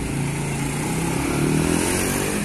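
A motorcycle, an Idola 135LC, runs with a steady loud engine drone that rises slightly as it revs, heard close with no talk.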